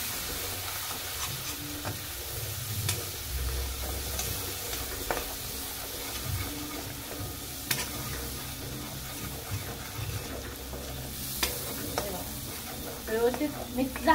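Red chutney masala frying and being stirred in a pan for a spicy crab curry, a steady soft sizzle with scattered scraping clicks from the spoon, close and moderate, no talk over it.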